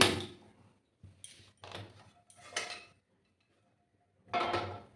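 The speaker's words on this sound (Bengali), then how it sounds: "প্যানটা বসিয়ে দিলাম" A frying pan is set down on a gas stove in a home kitchen, a few separate metallic clanks and knocks with short quiet gaps between them, close by and fairly soft.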